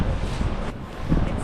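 Strong blizzard wind gusting through a Montreal street in winter, a steady loud roar buffeting the microphone with rising gusts, without speech.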